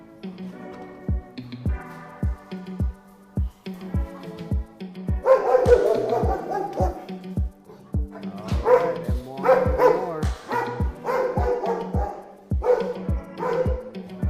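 Military working dogs bark in a kennel at an Air Force base, a steady run of loud, close barks that swells into a dense chorus of overlapping barks and yips from several dogs.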